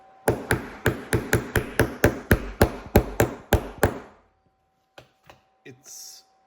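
A bearing tapped into a 3D-printed part for a 1/6 scale RC half-track model, a run of about fourteen sharp, evenly spaced knocks, then silence with a few faint clicks and a short hiss.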